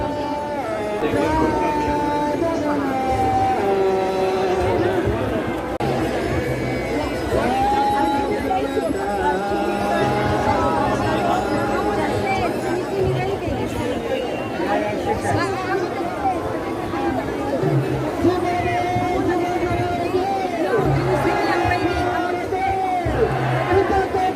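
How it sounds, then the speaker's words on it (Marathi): A large outdoor crowd at the Jagannath Rath Yatra chariot festival in a London square, a steady hubbub of chatter and distant calls with occasional whoops, and a voice talking over it throughout. "आणि रथासाठी जमलेली ही सगळी गर्दी पहा पहा"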